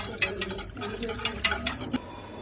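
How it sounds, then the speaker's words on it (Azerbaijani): A spoon scrapes and clinks around a pot while a sweet dessert mixture cooks and thickens, giving irregular close taps and stirring scrapes with no talking. "başlayırıq qatlaşana kimi bişirməyə. Qatlaşana qədər qarışdırılır."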